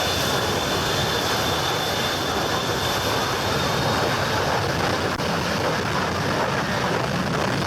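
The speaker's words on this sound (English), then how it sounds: "Everyone was excited to see the plane take off" A loud, continuous jet engine roar holds steady throughout, broad and rushing, like an airplane powering up for takeoff nearby.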